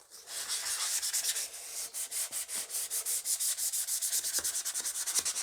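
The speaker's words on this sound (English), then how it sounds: "I'm just going to very gently denib that, just to take that roughness out." Lacquered wood being gently denibbed with 800-grit wet and dry paper, a soft, close, rhythmic rubbing of quick even strokes that continues steadily without talk.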